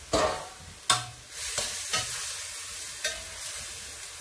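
Chicken sautéing in a pan, a soft sizzle under repeated scraping clatters of a spatula stirring the pieces, several distinct knocks spaced across the clip.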